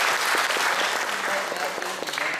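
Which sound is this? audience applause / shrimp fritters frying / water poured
audience applause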